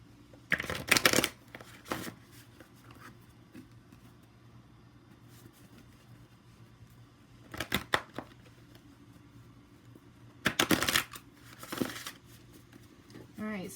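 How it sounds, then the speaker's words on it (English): Bursts of cards being riffle-shuffled, three separate shuffles spaced out, with faint background hum between them and no talking. "Let's go ahead and shuffle these,"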